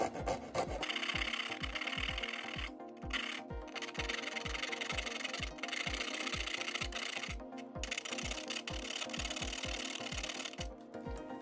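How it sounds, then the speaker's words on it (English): Keyways filed by hand into the outer shell of a lamp base: quiet, evenly paced rasping strokes that repeat roughly twice a second for the whole stretch. "so I needed to file keyways for these into the outer shell"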